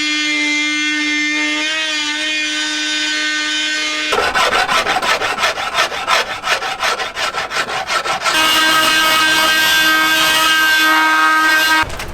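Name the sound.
shaving and sanding wood flooring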